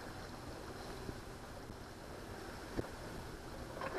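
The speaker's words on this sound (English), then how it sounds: "There's my Yamaha. We're trolling at 1200 RPM." Yamaha outboard motor on a fishing boat trolling at 1200 RPM, about 3.5 knots, off Sandy Point State Park, Maryland: a steady low engine drone mixed with wind and wave wash, with one brief knock partway through.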